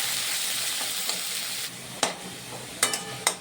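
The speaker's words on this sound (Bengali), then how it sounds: "করলাটা ভাজা হয়ে গেল" Sliced bitter gourd (karela) frying in hot oil in a pan, a steady broadband sizzle with a few sharp stirring clicks and scrapes near the end.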